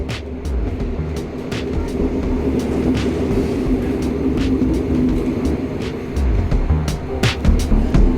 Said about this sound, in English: I'm now on the train up to Cardiff.